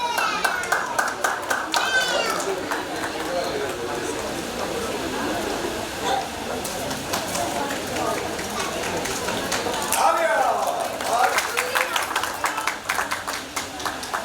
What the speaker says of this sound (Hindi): और जोरदार तालियां बजाते रहिए